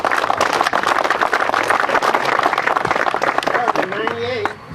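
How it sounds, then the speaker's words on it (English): A crowd claps at an outdoor ribbon cutting for the U.S. 59 road improvement, steady applause for several seconds that thins out, with voices talking over the tail end. "let's get a round of applause for that"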